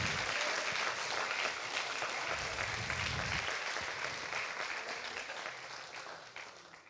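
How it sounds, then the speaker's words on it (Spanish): A church congregation applauds steadily, a dense, continuous wash of many hands clapping that holds for several seconds and then gradually fades, with faint voices underneath. "Dale un aplauso al Señor."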